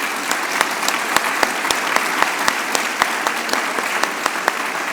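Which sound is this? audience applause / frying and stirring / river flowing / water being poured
audience applause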